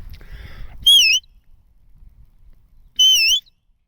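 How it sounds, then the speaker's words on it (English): A sheepdog training whistle, two sharp, loud warbling blasts a couple of seconds apart, with faint outdoor rustle between them. "that's the first time I think I've whistled to him"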